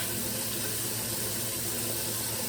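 Hot water runs steadily from a tap during a wash with bourbon-scented wood barrel bar soap, a loud, constant hiss and splash with no pauses.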